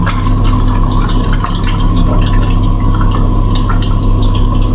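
Water pours steadily into the basin of a Samsung top-loader washing machine, a loud continuous rushing and splashing with a humming undertone and no break.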